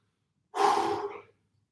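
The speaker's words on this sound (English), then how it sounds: "Big deep breaths" A single deep breath during an upper body strength workout, one breathy exhale lasting under a second and heard alone, close up.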